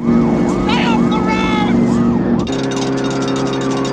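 A car chase from the 1979 Mad Max film, with roaring engines, wailing sirens and squealing tyres layered into a dense, loud din that cuts abruptly into another shot, while a voice talks over it.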